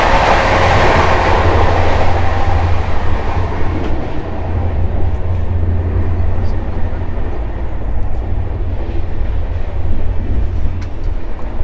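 Howrah to Pondicherry superfast train (12867) running, heard from inside a 3rd AC economy coach: a loud, continuous rumble and rolling roar with a steady low drone throughout.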